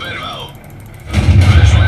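Tank cannon shot from a StuG III in World of Tanks, a loud broadband blast booming in at the midpoint and sustaining a low rumbling tail.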